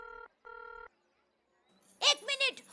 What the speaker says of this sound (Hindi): एक मिनट, फोन आ रहा है